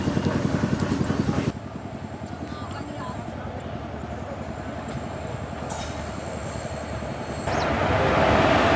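An intercity train running from Kozhikode towards Palani, heard from inside as a loud, continuous rhythmic clatter of wheels over rail joints, with a shift in the rumble midway and a swell of noise near the end.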